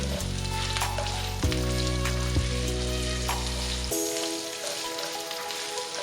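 Onions sizzle loudly in hot oil for a Malaysian-style fish head curry, a dense, steady crackle close to the pan. A low hum drops away partway through, leaving the frying alone.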